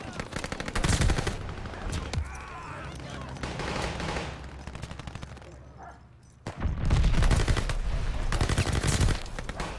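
Rapid SMG fire in the Call of Duty Vanguard match on Shipment comes in dense repeated bursts, loud and close, with chaotic in-game sounds between the volleys and a player's voice now and then.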